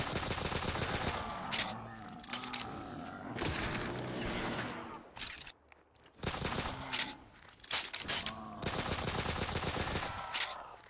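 Rapid gunfire bursts in Black Ops 3 Zombies inside a garage, loud close volleys and fast repeated shots broken by a short quieter gap before the firing resumes.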